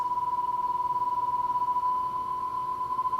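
A 1978 Sony TC-K1A cassette deck plays a steady test tone with its tape speed slowed, the pitch warbling in a slow oscillation over faint hiss.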